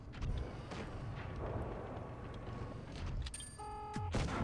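A Chinese tier 8 heavy tank, the 112 Glacial, firing its cannon in WOT Blitz: a deep booming shot over low engine rumble, followed by short tonal game interface chimes near the end.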